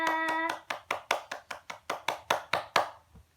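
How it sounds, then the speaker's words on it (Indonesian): Children in an elementary-school religion class clap hands together: a quick flurry of claps, then about ten slow, even, unison claps that end abruptly in near silence. "tepuk tangan untuk kita semua"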